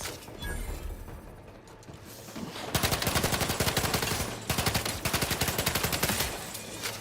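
Gunfire from The Outer Worlds 2 video game: rapid bursts of close, loud automatic shots, with a brief pause between two long volleys after a quieter opening, with no talk over it.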